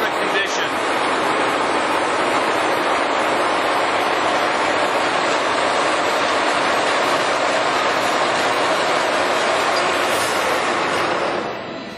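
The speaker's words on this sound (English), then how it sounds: "This machine has 43 spindle speeds, ranging from 10 to 1300 RPM." A Giddings & Lewis 340T heavy-duty horizontal boring, drilling and milling machine runs at low spindle speed, giving a loud, steady broadband roar that continues unbroken throughout.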